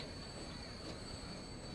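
A train rolls along the rails in the 1916-era Transport Fever railway game, a faint, steady rumble with a thin high squeal running throughout, heard alone with no talking.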